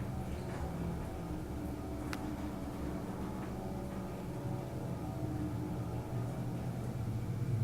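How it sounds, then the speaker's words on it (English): A 1986 Montgomery hydraulic elevator motor hums steadily and continuously at close range, a low mechanical drone with a faint whine and one brief tick partway through. "Let's listen to the motor."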